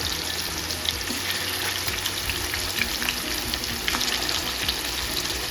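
Chicken frying in hot oil in a pan, a dense continuous crackling sizzle with scattered pops, steady and close throughout with no talking.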